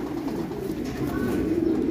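Racing pigeons coo softly and continuously in a loft, a low murmuring layer with no clear individual calls.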